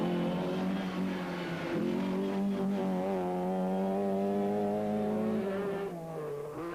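Powerful Group B rally cars race through a Welsh forest stage in 1986, one engine note held loud and sustained, its pitch climbing through the gears before dropping away near the end.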